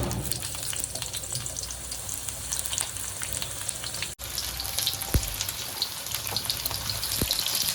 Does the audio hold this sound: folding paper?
no